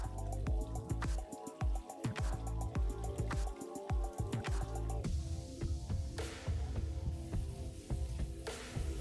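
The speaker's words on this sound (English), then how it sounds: "Rinse the grain about 3 to 5 times in cold water to make it cleaner." Rye grain being rinsed in cold water for mushroom grain spawn gives repeated close drips, splashes and sloshing, with a steadier running-water wash in the second half.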